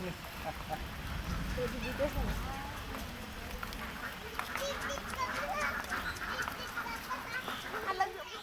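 Ducks and geese honk and quack in a lively outdoor cluster at a small park zoo, with people talking in the background throughout.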